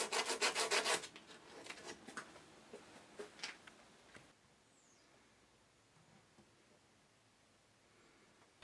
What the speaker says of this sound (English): use sandpaper to make sure everything is completely flush